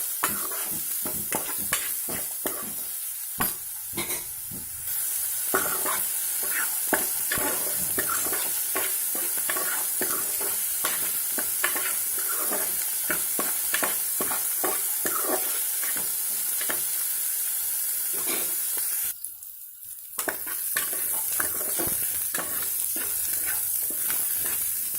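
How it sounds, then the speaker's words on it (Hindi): Onions fry in hot oil in a pan, a steady loud sizzle with frequent scraping and clacking stirring strokes throughout, dipping briefly near the end. "तेल गरम होने के बाद उसमें प्याज डालिए और इसे अच्छे से भून लीजिए।"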